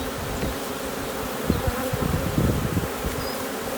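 Honeybees buzz steadily around an opened hive during an inspection, a dense continuous drone of many insects close by, with a few soft knocks of the hive boxes underneath.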